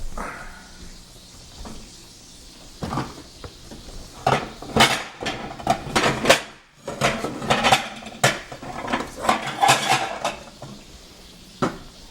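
Dishes are pulled out and handled in a home kitchen: irregular bursts of clinking ceramic and cutlery, with knocks like cupboard doors, close and fairly loud.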